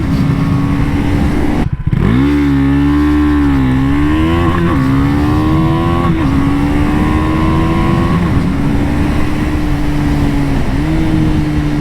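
A 2021 KTM 390 Duke single-cylinder motorcycle revs loudly, then launches hard from a standstill, its engine note climbing through rising gear pulls with short dips at each shift, up close and continuous, with no one talking.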